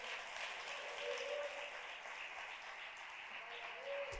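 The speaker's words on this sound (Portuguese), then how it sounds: "aplauda Ele" Church congregation applauding during an online Sunday worship service, a steady broadband wash of clapping throughout with a few faint voices calling out underneath.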